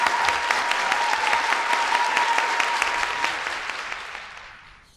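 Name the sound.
audience applause welcoming guest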